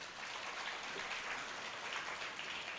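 Applause from a small audience at a Tamil community gathering, a steady wash of many hands clapping that holds evenly for about three seconds without voices.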